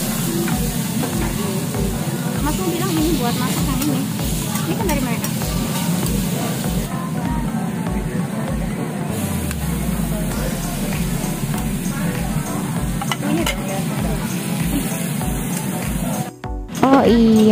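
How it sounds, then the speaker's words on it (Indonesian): Meat sizzling on a tabletop grill at an all-you-can-eat Japanese restaurant in a mall, a loud continuous hiss with restaurant chatter and background voices throughout. "Ini pertama-tama aku mau ngegrill dulu guys dagingnya."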